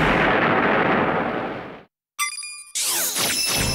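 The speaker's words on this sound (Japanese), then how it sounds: "ウルトラスラッシュ、そしてスペシウム光線連続発射。" Ultraman firing the Specium Ray in a tokusatsu battle: a loud roaring blast that cuts out to silence, then a bright electronic beam tone followed by another crackling burst.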